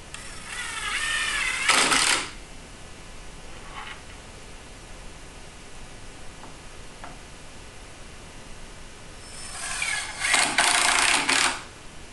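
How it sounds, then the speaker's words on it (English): A power screwdriver drives screws through a toe kit into the base of a lazy susan corner cabinet lying on its side, two separate bursts of whirring at the start and end with quiet between. "lay the cabinet on its side to position in corner and screw into the base of the"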